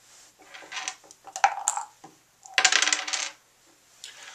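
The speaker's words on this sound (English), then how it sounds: "The dice were placed in the top of the horn, rattled around the bottom," Dice clatter inside a dice horn, a rattling burst of hard little clicks, then tumble out in a second, louder spill of rapid clattering before trailing off to a few faint ticks.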